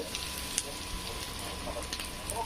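Paneer and vegetables frying in a pan give a steady, moderately loud hiss and sizzle throughout, broken by a few faint clicks from stirring.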